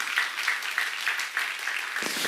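An audience at a church seminar claps in a brief, moderately loud burst of applause that runs steadily for about two seconds.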